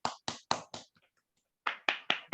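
An audience claps to welcome a guest speaker, heard as a run of separate sharp bursts in an even rhythm, with a brief pause in the middle before more claps follow. No one speaks over the clapping.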